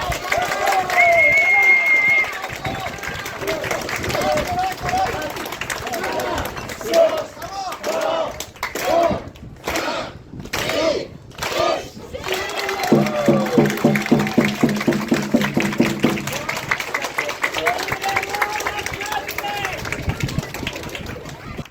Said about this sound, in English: here's the best hype man in the business, Todd, revving up the crowd for the final countdown